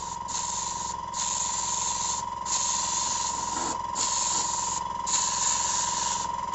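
An airbrush sprays a sparse coat of paint onto an orc model in short hissing bursts, about six close, even sprays with brief gaps, over a steady compressor hum.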